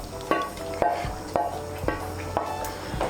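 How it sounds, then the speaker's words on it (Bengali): Fried prawns being stirred into simmering curry gravy with potatoes in a pot, giving a series of about six rhythmic scraping strokes of a spoon against the pot over a soft bubbling sizzle. "মাছগুলোকে ঝোলের সঙ্গে মিশিয়ে নেব।"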